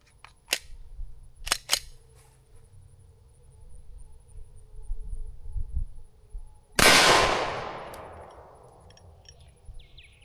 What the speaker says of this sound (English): This first round is just going to be the 115 grain practice round.